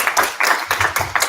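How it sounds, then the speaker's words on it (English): Brief burst of audience clapping after a live hackathon project demo, a few quick uneven rounds of claps over about a second, fairly close and loud. "round of applause."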